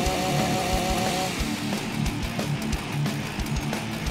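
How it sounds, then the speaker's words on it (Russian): A chainsaw runs continuously with a rough buzzing drone in the zombie game The Walking Zombie 2, loud and close, with steady engine rattle throughout. "Возьмите цепную пилу."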